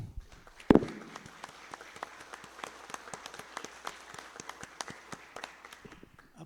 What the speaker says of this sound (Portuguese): eu vou pedir a vocês uma salva de palmas a esse nosso grande camarada aí